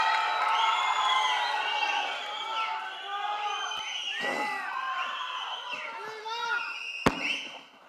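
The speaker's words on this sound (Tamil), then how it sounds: "Please ஒரு பெரிய கைத்தட்டல்" A large crowd at a fan event cheers and whoops loudly throughout as a film star is called on stage, with overlapping shouts and a sharp pop near the end.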